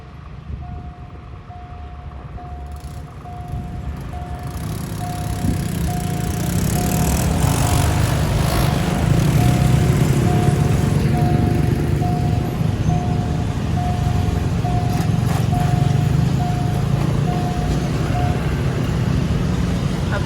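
Express train 75 rumbles past the Ban Duea level crossing in Thailand, a loud rolling roar that builds and then holds steady while the crossing bell rings on and off in a steady pattern.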